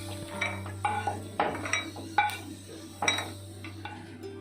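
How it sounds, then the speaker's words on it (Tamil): A spoon scrapes and clinks against a pan and a plate as ghee-fried cashews and raisins are transferred. There are several separate metallic taps over a faint steady hum, and no speech. "இதை நான் வந்து பிளேட்டில் மாற்றிக்கிறேன்."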